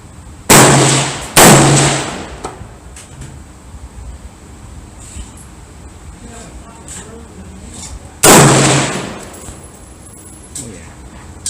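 Three sharp, loud 6.5 Creedmoor rifle shots at an outdoor 100-yard range, fired from a heavy TC Compass or LFA AR-10, two in quick succession and a third after a pause, with faint background noise between.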